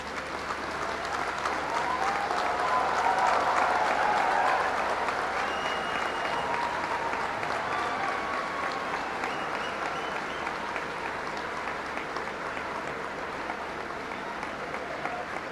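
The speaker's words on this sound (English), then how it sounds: "Please join me in extending a warm round of applause." Warm applause from a large audience at a university convocation ceremony, broad steady clapping that swells early and then holds at an even level, heard from some distance.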